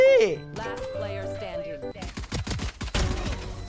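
Rapid bursts of Odin machine-gun fire in the shooter game Valorant, sharp overlapping shots in the second half of the clip, with a voice and game sounds before them.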